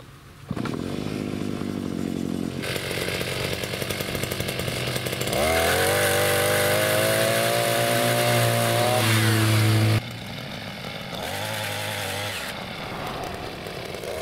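A GartenXL 5-in-1 petrol trimmer fitted with a pole chainsaw attachment on an extension bar cutting branches, the two-stroke engine idling, then revving hard into a loud, strained buzz under load before easing back to idle and revving again.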